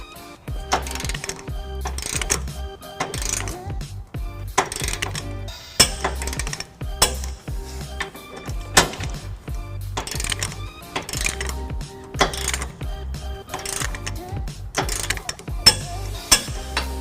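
A trailer hitch bolt on a 2011 Nissan Titan is torqued with a 19mm socket on an extension, giving a run of close metallic ratchet clicks and clanks in uneven bursts.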